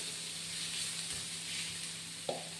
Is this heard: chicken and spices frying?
yes